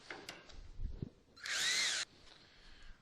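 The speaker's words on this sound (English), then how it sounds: "if you're using a drill driver in this driving bolts or taking bolts out of PLA" Drill driver working bolts out of a PLA part, a brief high-pitched whirring burst of about half a second amid quiet handling clicks and knocks, close by.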